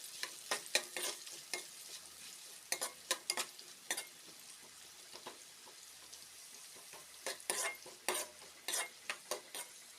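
Onions and green chillies frying in a pan while a ladle stirs them, giving a steady sizzle broken by repeated sharp scrapes and clinks of metal, close up and with no talking.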